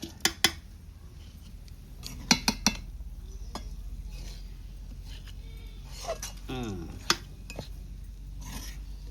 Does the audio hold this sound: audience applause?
no